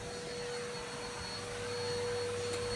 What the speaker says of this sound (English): And I might give the sofas a quick vacuum.